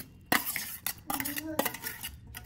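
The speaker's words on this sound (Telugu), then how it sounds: "ఒక బౌల్ వేసుకొని బాగా మ్యాష్ చేసుకొని అప్పుడు నెయ్యి వేసుకుందాం" Boiled food is mashed in a bowl with a metal spoon, giving close, irregular clinks and scrapes against the bowl over a couple of seconds with no talking.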